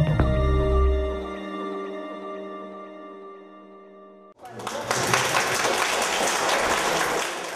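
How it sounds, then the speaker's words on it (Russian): Teachers and students at a school class opening break into loud, sustained applause after a ringing tone fades away. "Под бурные аплодисменты учителей и учеников"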